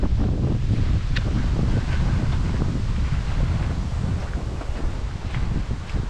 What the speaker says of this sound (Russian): Задувает ветерок.